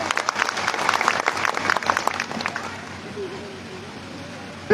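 An audience claps in a burst of scattered, lively applause at a speech, which fades to a quieter room tone after a few seconds.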